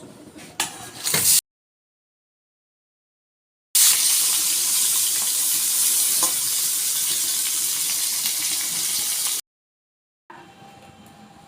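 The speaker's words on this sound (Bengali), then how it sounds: "মাছগুলো আমি ভেজে নেব" Prawns frying in hot mustard oil in a wok give a loud, steady hiss that runs for several seconds between short silent gaps, with no one talking.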